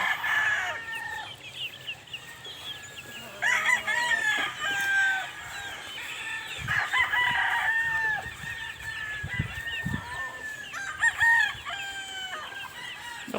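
Roosters on a game farm crow repeatedly amid steady clucking from several chickens, loud and close, with overlapping calls throughout and no talking.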